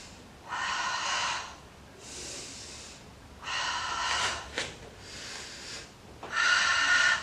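Deep breathing during an aerial Pilates warm-up: about five close, airy breaths alternating between inhale and exhale in a slow, steady rhythm, with short quiet gaps between them.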